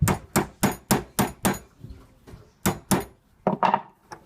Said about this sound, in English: We're going to take this little hammer, bend it just a little bit